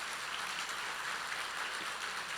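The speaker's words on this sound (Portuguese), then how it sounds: "Você pode dar um aplauso ao Senhor pela vida do pastor Marcelo?" Church congregation at a Wednesday evangelical service applauding, a soft, continuous wash of many hands clapping heard from some distance, even and without speech.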